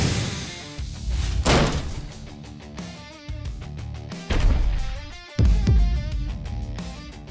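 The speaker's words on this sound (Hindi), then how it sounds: "छोटा सा दरवाजा आसानी से टूट जाएगा।" A small door is battered and forced open, with several heavy thuds and cracking slams spaced irregularly, loud and close, amid dramatic music.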